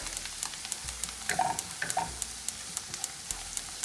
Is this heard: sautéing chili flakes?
yes